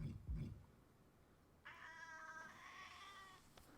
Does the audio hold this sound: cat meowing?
yes